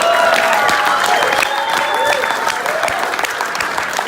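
Loud audience applause after a speech on cystic fibrosis, dense continuous clapping from a large crowd with faint cheering mixed in.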